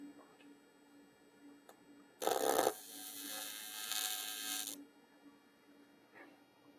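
Tack welding the corners of a sheet metal intercooler plenum, two short bursts of crackling arc about two seconds long each, close, over a quiet electrical hum with no talk.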